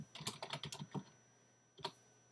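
Quick bursts of keystrokes on a computer keyboard, a rapid cluster of close clicks, a pause, then one more short double tap, with no voice.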